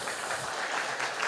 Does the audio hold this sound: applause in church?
yes